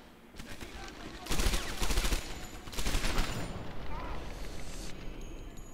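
Gunfire in the video game Medal of Honor Airborne: dense bursts of rapid automatic shots in several clusters over a steady rumbling battle ambience, with louder volleys in the middle and quieter crackle toward the end.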